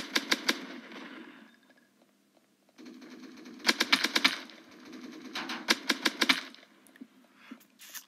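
Assault rifle fire in a bullet hell video game, rapid bursts of sharp crackling shots in several rhythmic volleys separated by brief pauses.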